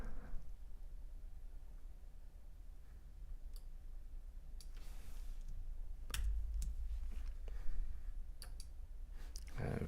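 Keys tapped on a computer keyboard in irregular bursts, soft individual clicks with occasional sharper strokes, close by over a low background rumble.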